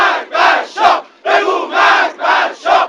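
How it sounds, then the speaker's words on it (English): A large crowd of anti-Shah demonstrators in Iran in 1979 chants a rhythmic slogan in unison, loud and close, in repeated bursts separated by short pauses. "The crowd shouted death to the Shah"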